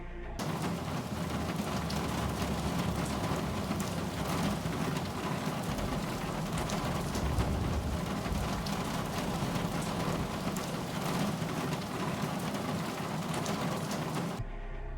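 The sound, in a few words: rain in a video game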